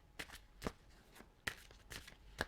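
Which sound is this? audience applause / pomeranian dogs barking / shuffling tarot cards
shuffling tarot cards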